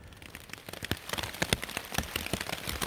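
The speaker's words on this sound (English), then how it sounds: "Well, it's been raining for a while now." Steady rain falls on a tent along a forest backpacking trail in Indiana before dawn, dense irregular patter with sharper individual drops hitting close overhead, continuous and unbroken by any voices.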